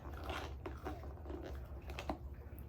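A puppy crunches freeze-dried treats, with a few sharp, close bites and chewing crackles over a low steady background hum.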